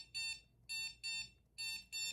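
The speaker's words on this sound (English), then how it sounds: "and then this is how loud the beep is." A Heaflex dog training collar sounds five short, moderately loud electronic beeps in a quick, slightly uneven rhythm, with quiet pauses between them.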